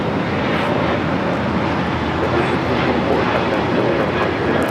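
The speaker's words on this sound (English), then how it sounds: "1524 taking off to JFK on the A321neo" A JetBlue Airbus A321neo jet takes off at LAX, bound for JFK: a loud, steady broadband engine roar fills the whole stretch with no break and no voices.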